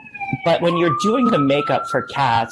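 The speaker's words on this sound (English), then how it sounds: "excuse the sirens," Ambulance siren passing on a New York City street, a steady wailing tone running beneath close, continuous conversational talk throughout.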